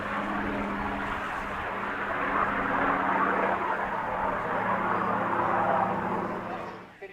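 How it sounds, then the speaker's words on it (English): A P-51 Mustang warbird flies past at an airshow, a broad steady engine roar swelling and then fading toward the end, with commentary talk faintly beneath. "Here is the flight's second warbird, the Mustang, flown by Alistair Williams."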